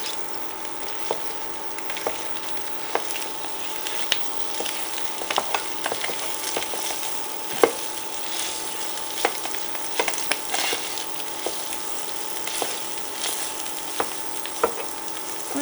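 Crumbled sausage sizzles steadily in a hot pan for a Zuppa Toscana soup, with a dense hiss of frying broken by frequent sharp scrapes and taps as it is stirred and broken up.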